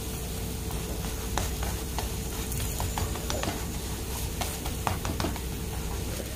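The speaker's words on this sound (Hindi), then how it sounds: "उसी में दोनों साइड से क्रिस्पी होने तक फ्राई कर लेंगे।" Paratha frying in ghee until crisp, giving a dense, continuous sizzle with faint crackles and a few soft taps throughout, steady and close, no talking.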